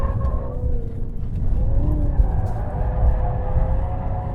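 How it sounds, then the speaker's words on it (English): A 2016 Cadillac CTS-V drifts on a race track, its tires squealing in wavering tones over a steady, heavy engine roar, close and continuous without speech. "I meant one more drift now."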